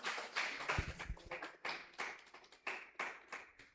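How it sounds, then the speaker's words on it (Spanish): Sparse, quiet applause at a monthly lecture series event, a handful of people clapping in uneven bursts with distinct individual claps, gradually thinning out. "Un aplauso."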